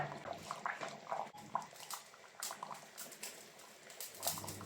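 Fish curry in a clay pot still bubbling from the pot's own heat after the flame is turned off, soft irregular bubbling and popping, close but quiet.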